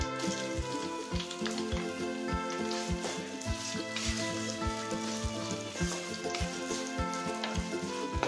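Small onions, curry leaves, cinnamon, clove and cardamom fry in oil for Chettinad chicken kuzhambu, a steady soft sizzle punctuated by repeated light stirring clicks, faint and close, with no talking.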